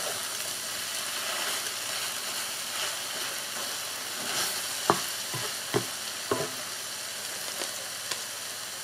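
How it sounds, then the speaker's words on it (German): Blueberry Schmarrn sizzles steadily in a frying pan while being torn apart, with a continuous fry hiss and several sharp scraping clicks of the utensil against the pan. "Ich habe jetzt meinen Schmarrn gewendet und jetzt wird er noch zerrissen."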